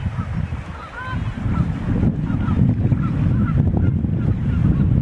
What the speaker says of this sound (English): But the seagulls seem to be happy.